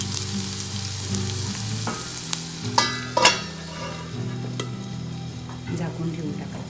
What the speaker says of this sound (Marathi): चांगला गुलाबी रंगावर कांदा वाफवून घ्यायचा